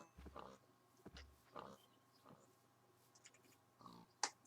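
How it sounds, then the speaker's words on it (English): Pigs in the Minecraft video game give several short, separate oinks and grunts, faint and spaced out over a quiet background. "There are loads of pigs around here"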